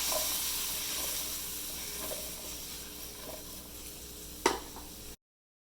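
Cauliflower being stirred with spices in a hot pan, a steady sizzling hiss with soft scraping strokes and one sharper clatter near the end.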